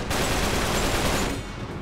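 Gunfire in the video game Uncharted 3: Drake's Deception, a dense continuous burst of loud shots and rattling fire filling nearly two seconds before easing slightly at the end.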